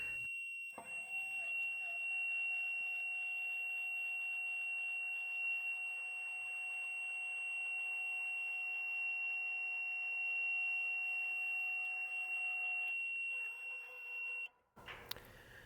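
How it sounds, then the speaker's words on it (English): A USAutomatic Patriot gate opener control gives off a loud, steady electronic beep that holds for about fourteen seconds and then cuts off, with no talking over it. "You can hear a loud beep here."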